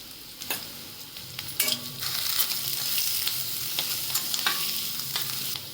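Sliced onion with turmeric frying in a pan: a steady close sizzle with intermittent scraping stirs and a few spoon taps on the metal, no talking.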